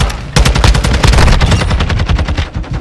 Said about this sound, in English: I'm gonna shoot these doors